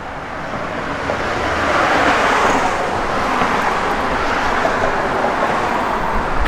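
A 1965 Chevrolet Malibu SS with a 350 cubic inch aluminum-head crate engine drives down the road, a broad, steady roar of engine and road noise that swells after the first second and holds loud and close to the end.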